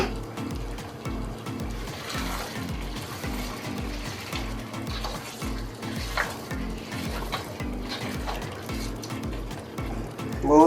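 Mutton karahi with ginger cooking in its own fat with no added oil or ghee in an Afghani Shinwari-style pan, a steady sizzle under repeated scraping stirs at an even rhythm, fairly quiet, ending in a louder clatter.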